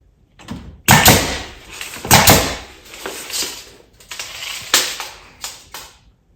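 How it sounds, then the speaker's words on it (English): Basement flooring gets nailed down in a series of sharp, irregular knocks and clacks, loud and close, separated by short pauses. "Do some nailing."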